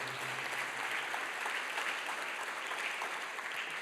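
A church congregation claps steadily together for several seconds, a dense and even wash of applause heard from within the room.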